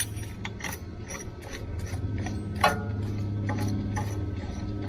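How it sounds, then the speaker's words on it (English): A caliper piston tool being screwed to push a brake piston back on a 2014 Ram 1500 front brake gives off a quiet series of metallic ratcheting clicks and small ticks, close up and irregular, with one sharper click midway. "put the tool in place, start screwing it out, and it'll slowly push the piston in to give you room to go over your new brake pads"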